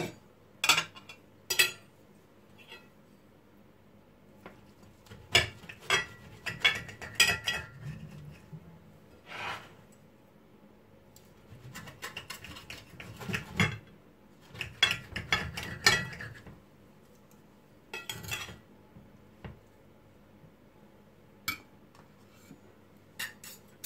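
A knife slicing through a homemade salmon quiche, with light scraping and cutlery clinks against the dish coming in short bursts, close and fairly quiet, with no talking.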